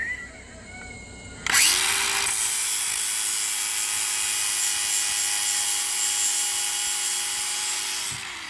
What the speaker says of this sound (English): what this is just flapper disc, and what you're going to do is you're going to grind these rivets out